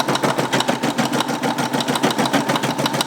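A Brother embroidery machine stitches a patch with fabric taped to the back, giving a fast, steady mechanical rattle of rapid needle strokes, close and continuous with no talk.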